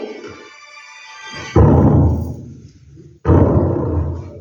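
A voice imitates an auto-rickshaw engine with starting trouble at a monthly Shivanubhava spiritual gathering: two loud, rough sputtering bursts, each swelling suddenly and then trailing off, with a short pause between them.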